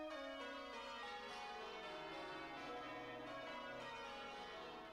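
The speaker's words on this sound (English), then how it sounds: "that will be the first bell, the smallest one, the treble, to ring" Church tower bells in change ringing, starting with the smallest treble bell, ring out as a dense, continuous wash of overlapping metallic peals, loud and sustained with no voices.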